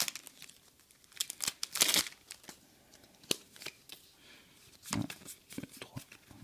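Crinkling foil of a Pokémon card booster pack (Méga Kangourex) being torn open by hand, a few sharp rips and rustles in short bursts, close and fairly quiet with a brief voice in the background.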